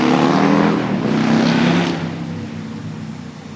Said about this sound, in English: that was just a noisy motorcycle